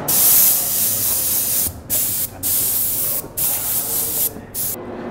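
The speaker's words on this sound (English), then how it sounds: "blow out any debris using compressed air" Compressed air hisses loudly and steadily as it blows debris out of the brake on a WEISS TC rotary indexing table, with a few brief cutoffs between bursts.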